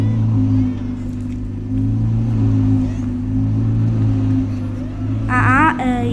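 A Ferrari idles with a steady low engine drone while being loaded onto a car carrier, with a brief rise in engine note near the end and a voice speaking over it.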